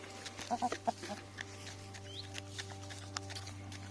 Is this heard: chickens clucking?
yes